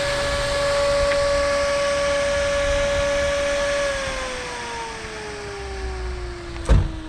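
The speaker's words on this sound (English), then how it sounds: "That's a loud motor. That thing is loud." A loud supercharged Pontiac G8 engine on a dyno holds a steady high-pitched whine, then the pitch slowly drops as revs fall, with a brief knock near the end and no voices.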